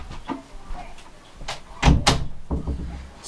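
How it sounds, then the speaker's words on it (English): An indoor door is pushed shut with a couple of close, solid thuds and a brief rattle, preceded by soft shuffling. "I'm going to close the door here."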